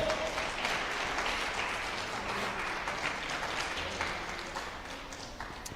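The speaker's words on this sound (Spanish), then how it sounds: "Dale aplausos al Señor" A church congregation at a Spanish-language worship service applauds the Lord, a steady wash of many hands clapping that fills the whole stretch and fades slightly toward the end.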